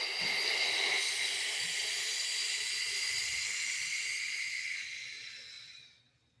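Breath blown out steadily through the mouth during a yoga cat pose, a long breathy hiss lasting about five seconds before fading out.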